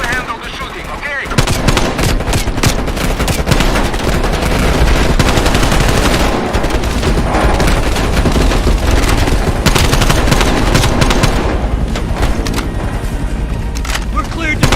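Dense, loud automatic gunfire and explosions from the game Call of Duty: Black Ops Cold War roar almost continuously, with engine rumble underneath and voices talking over the battle.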